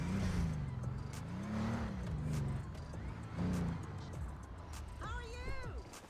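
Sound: Bugatti car driving in video game GTA 5

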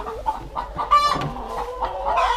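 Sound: hens clucking in a henhouse

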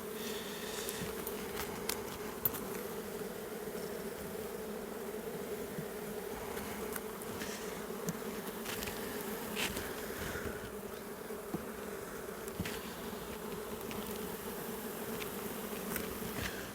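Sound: honeybees buzzing at an open hive

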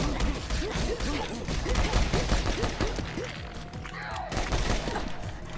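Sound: gunfire in a video game

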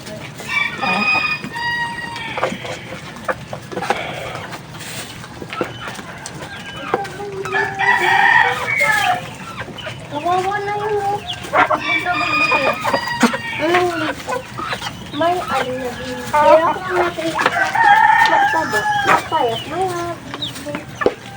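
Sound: chicks and chickens clucking and crowing

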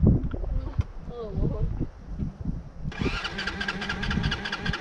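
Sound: Kayo Bull 150 ATV engine starting

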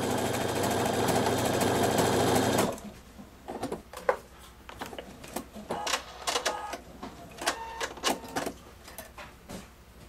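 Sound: Pfaff Performance 5.0 sewing machine sewing a taper stitch

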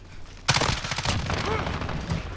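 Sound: gunfire from a video game, Call of Duty Modern Warfare

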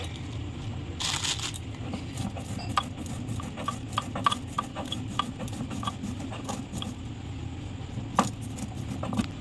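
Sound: grinding spice paste

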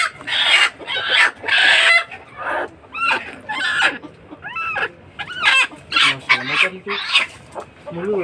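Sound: chickens clucking during health checkup

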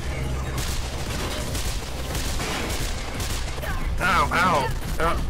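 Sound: enemy gunfire in video game Mirror's Edge

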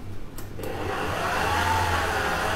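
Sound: electric mixer running

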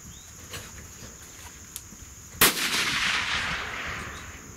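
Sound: gunshot from .243 Remington 700 rifle, 80 grain Barnes TTSX

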